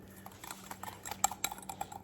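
Red peppers stirred into a cracker mixture with a utensil, giving soft, quiet scraping and light clinking taps against the bowl in a short irregular run.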